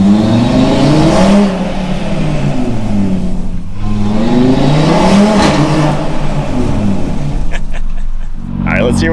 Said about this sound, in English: you really start to hear the depth of this half a V10 engine